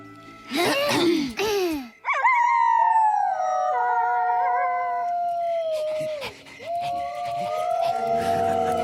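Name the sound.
cartoon wolves howling to call lost wolves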